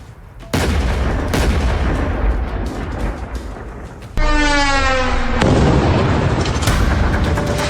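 Heavy explosions as Israel blows up a Lebanese village: a sudden, sustained deep roar of blasts and rumbling debris with no quiet gaps, surging louder again partway through with a rising, warbling whine on top.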